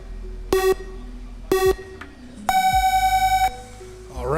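A race track start sequence gives two short electronic beeps about a second apart, then a longer, higher start tone lasting about a second, fairly faint against low background noise.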